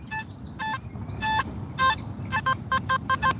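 A metal detector sweeping for coins gives a series of bright electronic beeps, a few spaced tones then a quicker run of repeated beeps, over a low background rumble.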